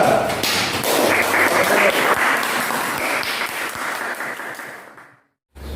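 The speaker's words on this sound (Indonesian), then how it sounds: "Tepuk tangan kelompok 2." Students in a junior high science classroom clap for a group after its presentation, a steady, fairly close round of applause lasting about five seconds before cutting off abruptly.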